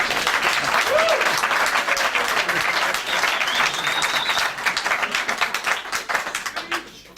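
A group of people claps for a recording retake, a dense, loud burst of applause that runs steadily and then thins into scattered individual claps near the end, with brief voices underneath.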